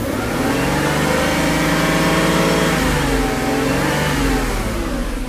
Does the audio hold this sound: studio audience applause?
no